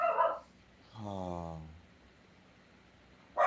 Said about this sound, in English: I'll just say this while my dog is yelling at the cat.